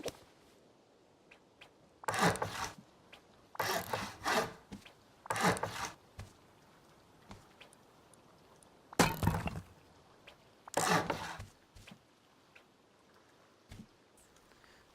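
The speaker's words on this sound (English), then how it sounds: "we're going to want to equip our hammer and see if we can upgrade some of this stuff to wood or stone" A hammer upgrading base walls to wood or stone in the Rust survival game, heard as five or six separate scraping, crunching bursts spaced a second or two apart over a quiet background.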